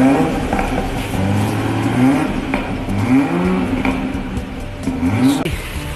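The engine of a 2019 Toyota Supra GR in a car audio shop revs in several short blips that rise and fall, loud and close, with no talking over it.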